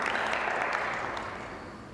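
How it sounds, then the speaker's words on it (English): Audience in a hall clapping and hollering at a speaker's request, a dense steady wash of applause that gradually fades over two seconds. "Can you clap or holler or something? Just make some noise so we can hear you."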